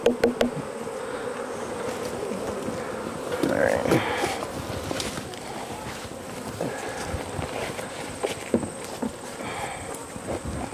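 A dense, steady hum of many honeybees from a queenless, laying-worker hive buzzing close by as they are shaken off, with a few louder passes and faint handling noises.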